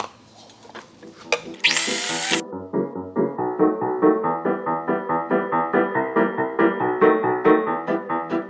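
An electric mixer creams two sticks of butter for cupcake frosting, a loud, close motor whir that pulses steadily as the beaters turn.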